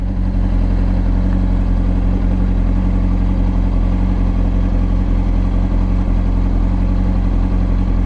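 A car engine drones steadily while driving along a road, loud and close from inside the cabin, a constant low hum and rumble with no notable changes in pace.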